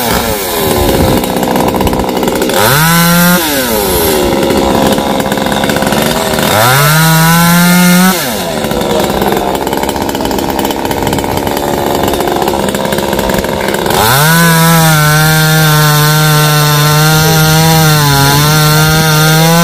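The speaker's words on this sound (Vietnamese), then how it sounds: "cưa hạ cây bạch đàn này như thế nào nha" A chainsaw cuts down a large eucalyptus tree in a cramped garden, loud and continuous, its engine revving up and dropping back several times as it bites into the trunk, with no talking.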